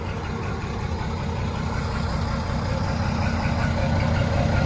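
A Ford F700 truck converted into a pickup idles steadily, its heavy diesel rumble loud, close and constant with no other sound over it.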